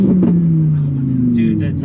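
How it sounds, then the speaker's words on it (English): An Audi R8's exhaust rumbles loudly and steadily from close by, its deep drone holding and sliding slightly lower over two seconds, with people talking over it. "Exhaust sounds wicked."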